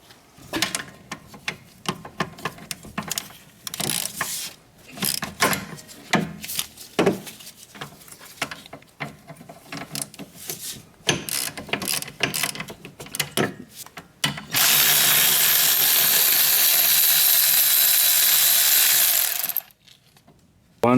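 A hand ratchet loosens 14mm caliper bracket bolts on the rear brakes of a 2004 Hyundai Sonata, a close series of quick clicking bursts, followed by a loud steady whir for several seconds near the end.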